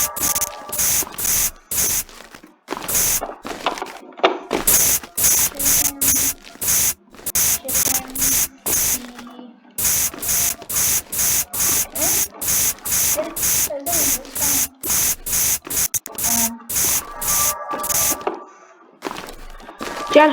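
Repeated short bursts of spray paint in the horror video game Subway Horror, a steady run of loud hissing sprays with brief gaps, with a voice talking faintly underneath.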